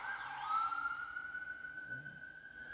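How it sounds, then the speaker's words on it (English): Emergency siren passing on a busy street in a small city, a faint steady wail heard from indoors, gradually fading with low traffic rumble beneath. "we'll wait for the sirens to go by."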